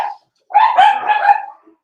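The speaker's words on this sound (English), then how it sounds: "Sorry for my dogs barking." Pet dogs barking indoors: one short, close yelping bark burst lasting about a second, with a faint earlier yap just before it.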